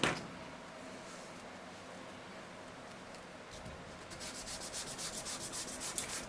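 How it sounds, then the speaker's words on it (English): Kneaded eraser rubbing over paper to clean up hand lettering, a quiet hiss that turns into a quick run of soft rhythmic back-and-forth strokes close by, with no talk. "Using my kneaded eraser."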